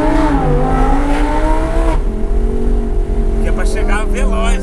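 Audi R8 sports car engine revving and accelerating, a loud sustained roar with rising and falling pitch heard from inside the car, with someone talking over it throughout.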